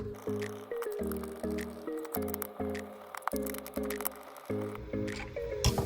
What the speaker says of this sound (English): To dismantle it we will need one screwdriver. Unscrew 4 bolts.